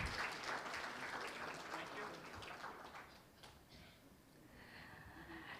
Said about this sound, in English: Can we make a big round of applause, everyone?